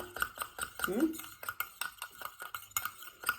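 Cocoa butter cream being stirred by hand with chosen active ingredients, a spoon scraping and clinking against the bowl in steady repeated strokes, fairly close and moderately quiet, with someone talking over it.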